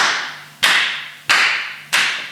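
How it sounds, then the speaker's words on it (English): Three loud, sharp hand claps spaced evenly about two-thirds of a second apart in a room, each followed by a noticeable echoing decay, with no talking. "you can go around and clap, okay, loud"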